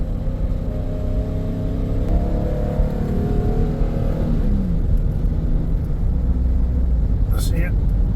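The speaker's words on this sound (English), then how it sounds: "it is dropping and dropping, and it's bogging and bogging" A car engine with a low-fuel-pressure fault runs rough and bogs down, a steady close rumble that sags and drags with little recovery, while a person talks over it.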